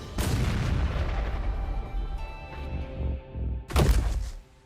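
An anime fireball spell explodes in a loud, close, booming blast that decays with a rumbling tail, followed by a second sharp burst near the end.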